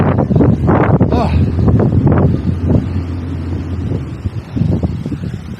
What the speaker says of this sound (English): Feels like the wind's more exposed up here.